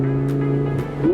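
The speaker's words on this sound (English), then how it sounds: "Listen to this downshift." Lamborghini engine downshifting while cruising at low speed, a loud steady rumble with strong harmonic tones and a brief rising rev near the end, heard from inside the car.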